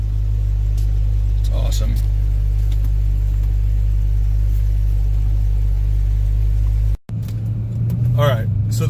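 A low, steady 2009 Cadillac CTS-V engine rumble fills the clip, with a person speaking briefly over it near the end after a short break.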